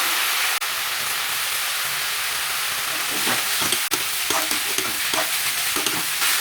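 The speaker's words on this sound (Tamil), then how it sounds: "இஞ்சி பூண்டு பேஸ்ட் வந்து பச்சை வாசனை போக நல்லா வதக்கிடணும்" Ginger garlic paste and green chillies sautéing in hot oil, a loud continuous sizzle with scraping stir strokes growing busier in the second half, two sharp clinks of a utensil, no voices.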